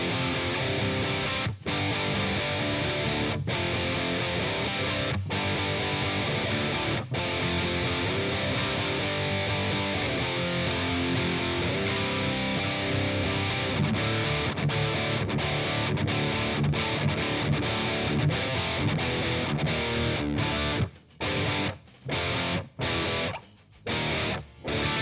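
Distorted electric guitar runs through a solid-state amp plugin with a 4x12 cabinet, playing a dense punk-rock riff continuously, loud and alone, ending in choppy stop-start stabs.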